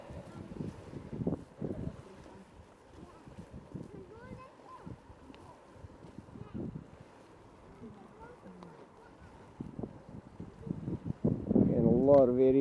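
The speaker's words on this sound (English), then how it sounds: "Getting a lot of variation in the wind there" Wind gusts across a hilltop ridge, rising and falling in strength with buffeting rumble on the microphone, growing loudest near the end.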